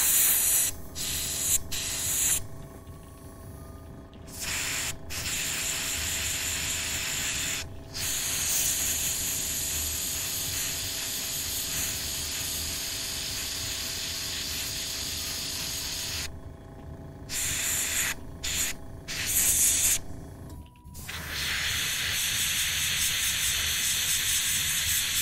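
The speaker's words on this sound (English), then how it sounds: "Right now I am airbrushing Vallejo Express colors" An airbrush sprays Vallejo Express paint in bursts of bright steady hiss, switching on and off several times with short silent gaps between, close to the listener.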